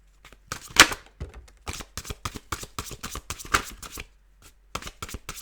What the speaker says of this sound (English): I don't know why I keep shuffling